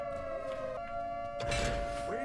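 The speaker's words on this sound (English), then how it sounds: "Freddy, are you not concerned about the air raid sirens?" A wailing air raid siren blares inside the video game Five Nights at Freddy's: Security Breach, a steady droning tone over game noise and thumps.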